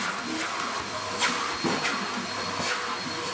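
A household vacuum cleaner runs on carpet with a steady, fairly close whine and hiss, swelling in short bursts as it is pushed back and forth.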